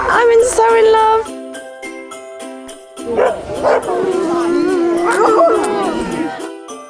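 Husky-type sled puppies in an outdoor enclosure in Finnish Lapland bark, yip and howl together in a loud, close chorus, with a jingling sound and a voice mixed in among the cries.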